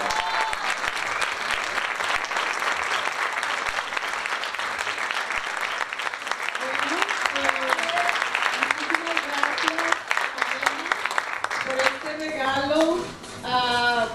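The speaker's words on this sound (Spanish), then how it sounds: "yo quiero que ustedes les demos realmente un fuerte aplauso, que ustedes se ganan." An audience at a Colombian art and fashion anniversary event bursts into sustained, dense applause that carries on for over ten seconds, with voices and cheering rising over the clapping toward the end.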